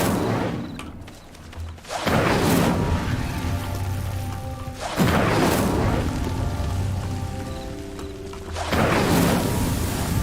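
An Incendio fire spell lights pyres in Hogwarts Legacy. Three loud bursts of fire whoosh up at roughly three-second intervals, each followed by a sustained roaring crackle with no voices.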